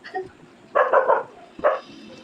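A dog barks nearby in a quick run of three barks, pauses, then gives one more bark.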